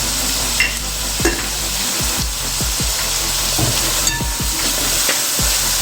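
Beef roast sautéing in a pan with a little salt while being stirred, a steady close sizzle with repeated scraping strokes of the spoon at an irregular rhythm.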